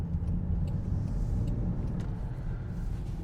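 A 2025 Land Rover Defender 110 Sedona rounds a turn with its suspension set at 20, a steady low road rumble and engine hum filling the cabin throughout with no talk.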